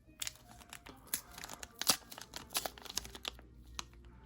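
Foil wrappers on McDonald's Pokémon card packs being torn open and crinkled, a busy run of sharp crackles and rips close up with no talking.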